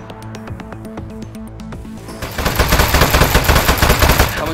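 Desk turret firing in the video game Aperture Desk Job: sparse clicks and shots at first, then from about the midpoint a loud, sustained burst of rapid automatic gunfire that continues to the end, with no talk.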